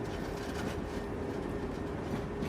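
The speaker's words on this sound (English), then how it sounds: "the train sets off again" The Orient Silk Road Express pulls out of Samarkand station, a steady, loud rumble of rolling wheels and carriages with no voices.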